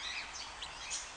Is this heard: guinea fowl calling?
yes